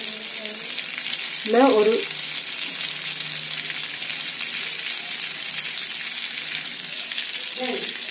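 Butter sizzles and fries in a pan while millet noodles are being made, giving a steady, close hiss that runs unbroken throughout, with a voice briefly speaking over it twice.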